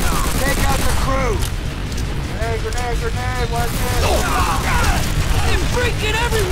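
Gunfire from Call of Duty: World at War rattles in loud, dense bursts on an airfield battle, with machine gun fire mixed in, constant and close under voices shouting throughout.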